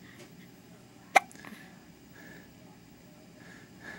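A newborn baby's single sharp hiccup in a hospital room, one brief close burst standing out from a quiet background with faint soft sounds afterward.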